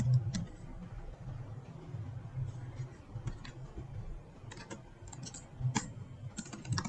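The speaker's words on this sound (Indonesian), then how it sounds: "Selanjutnya, kita akan mengetikkan system out print line" Code typed on a computer keyboard: quiet, irregular clusters of light key clicks with short pauses between them, heard close over a faint room background.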